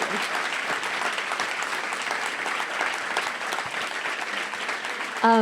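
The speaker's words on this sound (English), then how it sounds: "I couldn't hear it over the thunderous applause" An audience at an author event for Olympian Kara Goucher's memoir gives thunderous, continuous applause, a dense roar of clapping lasting several seconds before ending abruptly.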